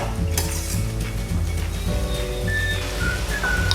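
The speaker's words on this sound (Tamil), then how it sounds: "இதை வந்துட்டு சேர்த்து ஒரு தடவை நல்லா வதக்கிக்கலாம்." Mushrooms and green peas sautéed in a pan for mushroom pulao give a steady, close sizzle with scraping and light clinks of a spoon against the metal, continuing unbroken without talk.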